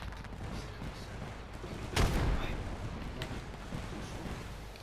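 In Apex Legends, Fuse's cluster bomb bursts in one sharp, loud blast about midway, followed by a brief rumbling tail over quieter background game noise.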